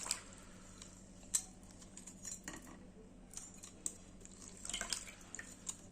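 Two lemons squeezed by hand for juice in a home kitchen while making a ginger juice remedy. Soft squishes and small drips sound close but faint against a quiet room.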